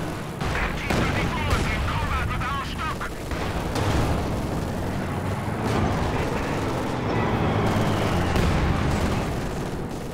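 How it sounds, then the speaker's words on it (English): Heavy mortar blasts and gunfire in a World War II strategy video game, with repeated booming impacts and crackling shots layered densely throughout, while a voice talks over the battle. "a heavy mortar just continuing to slam home the damage"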